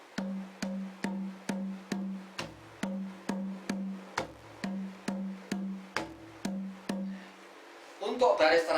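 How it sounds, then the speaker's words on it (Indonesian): Javanese kendang drum playing the basic pattern for a lancaran piece: a steady run of about fifteen close strokes, mostly ringing tuned tones with a few deeper open beats mixed in, followed by a brief burst of other sounds at the end. "lalu kita sambung kendang yang baku atau kendang B yang suaranya seperti ini"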